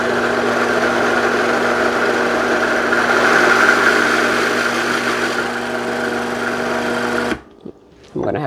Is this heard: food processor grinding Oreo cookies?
yes